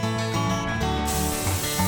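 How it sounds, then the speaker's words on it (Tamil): Coriander leaves sizzle as they are stirred with tomato and onion in a hot pan, a steady close hiss running through the whole short stretch. "இப்போ இதில் வந்து ஒரு கைப்பிடி அளவுக்கு கொத்தமல்லி தழையை போட்டு நல்லா வதக்கி விட்டுக்கலாம்"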